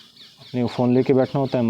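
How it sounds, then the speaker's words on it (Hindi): Chickens cluck loudly and close in a rapid series of harsh calls, nearly drowning out someone speaking over them. "पक्षी बोल रहे हैं"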